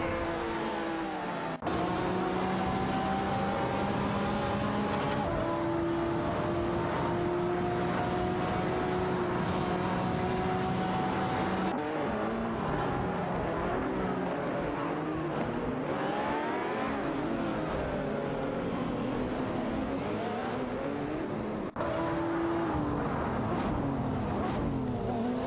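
Race car engines in an AI racing video game drone and whine continuously as cars pass and shift pitch, with sharp cuts between camera views and high rising whistles in the middle section.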